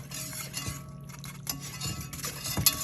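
Stirring onion powder into a pot of seafood mac and cheese: soft scraping and clinking of a utensil against the pot, a few brief louder knocks, close and fairly quiet, with no voices.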